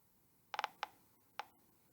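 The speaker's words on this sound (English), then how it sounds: "This is called a Geiger counter. Now, this is a handheld Geiger counter." A handheld Geiger counter giving sparse faint clicks: a quick burst of three, then a single click, then another single click after a pause, against a quiet background.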